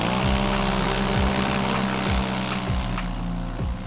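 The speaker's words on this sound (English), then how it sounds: "XMR doesn't have enough traction at the very start, and the electric quad overtakes its opponent" An electric BRP Outlander quad and a gas XMR 1000 quad drag racing side by side: a loud, continuous engine drone with repeated gear-like pitch drops, heard close and alone.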